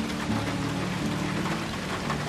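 Steady rain falls overnight on a van parked at a campsite in the Netherlands, a dense, even hiss of drops with no break and no voices.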